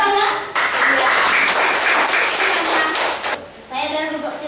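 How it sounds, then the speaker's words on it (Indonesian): A junior high school class in Indonesia claps together in a brisk burst of applause, fairly close and loud, with voices before and after. "Iya bagus. Tepuk tangan."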